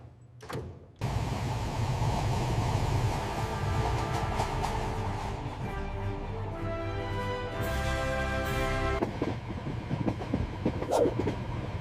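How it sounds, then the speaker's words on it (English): A Shinkansen bullet train in Japan running at speed, heard from inside as a steady loud rumble and rushing hum with shifting mechanical whines and occasional clicks, no talking. "This train is so fast! This is the Shinkansen, the bullet train."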